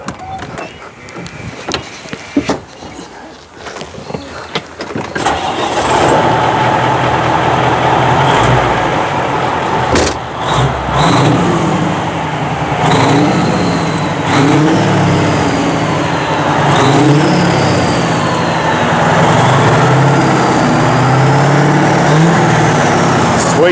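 A vintage truck engine cranks and catches after a few seconds of handling noise, then runs and revs loudly and steadily for the rest of the stretch, close by.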